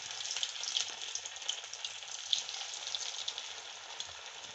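Kothimbir vadi, a coriander fritter, fry in hot oil in a kadhai with a soft, steady sizzle and light bubbling, while small crackles pop now and then. No one speaks.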